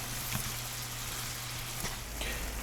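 Carrots cook over medium heat in a pan with a soft, steady sizzle and a few faint scraping stirs, quiet and close.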